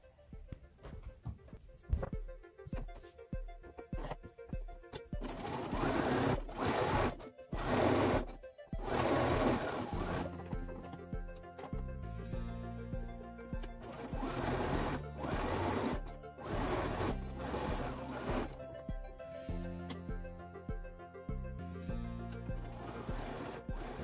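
A sewing machine stitches straight lines across homemade fabric cleaning cloths, its motor whirring in bursts of steady running separated by short pauses, fairly close and alone without talk.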